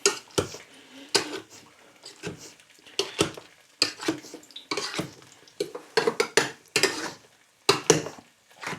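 A whisk beats puree in a pot on a gas stove, producing a string of irregular scraping and clattering strokes against the metal, close and fairly loud, with short pauses between bursts and no talking.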